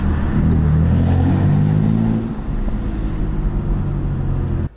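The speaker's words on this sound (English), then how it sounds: "just got to hear the turbo spool under the tunnel" BMW M3 with an Active Autowerke single mid pipe accelerating inside a tunnel, a loud, steady engine roar that builds and echoes for several seconds, with no talking.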